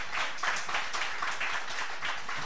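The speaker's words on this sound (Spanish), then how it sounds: "un aplauso para el profesor Carlos Márquez." Audience applause for a professor after a lecture on quantum mechanics, a steady wash of many hands clapping together, sustained and fairly loud throughout the short stretch without any voices.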